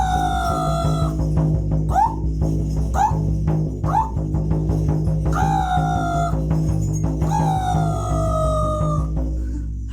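A human voice imitates the caw of a Kamchatka raven, giving several short calls and then longer ones with a soft, drawn-out, tonal quality against a steady background hum.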